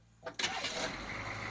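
A CUCV 6.2/6.5 diesel engine cranks briefly, then catches and fires up into a rough, rising idle, close and fairly loud, after a quiet moment.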